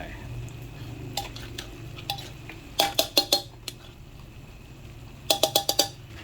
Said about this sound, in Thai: คนเข้ากันเลยทีนี้